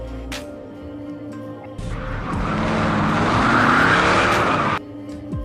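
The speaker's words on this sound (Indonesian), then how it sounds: "ia pun langsung menghilang dan kabur dengan mobilnya" A getaway car in an action film tears away with a sharp tire squeal and skid, the engine note building loud and close for a few seconds before cutting off abruptly.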